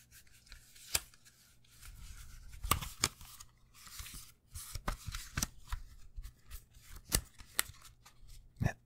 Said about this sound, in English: Now, allow me to shuffle the deck.